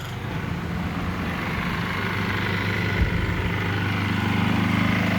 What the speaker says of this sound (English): That's just the generator running the fan blower motor.